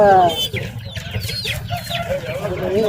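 Busy clucking and chirping from a group of country chickens and chicks at a market, close by, with a voice briefly heard at the start.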